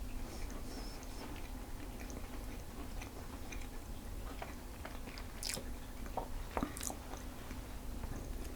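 Crunchy Italian S-shaped lemon cookies, golden on the bottom, being chewed close up, with steady soft crunching and a few sharper bites over a constant low background hum.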